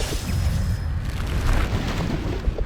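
A Bombarda explosion spell in the Hogwarts Legacy video game erupts as a loud, low rumbling boom that stays thick and sustained throughout.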